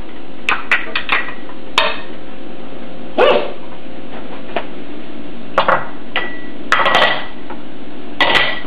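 Chopped carrots tumble into a cooking pot of vegetables for vegetarian black bean soup, making irregular sharp clattering knocks spread across several seconds with quiet gaps between.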